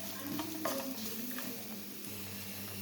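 Strawberry pickle masala being sautéed in a pan, a quiet, continuous sizzle with the soft scrape of stirring through it.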